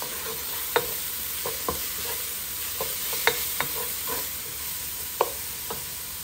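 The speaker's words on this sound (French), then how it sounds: "Je vais mélanger." Bulgur being stirred in a pan with coriander and parsley, a spoon scraping and knocking in irregular strokes over a constant soft sizzle, close up.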